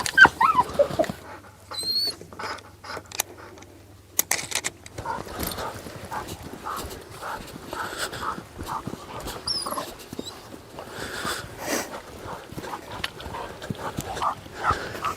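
Hunting dog in a field during a pheasant hunt, with close panting, sniffing and small whimpers alongside rustling movement through cover, and brief human voices at times.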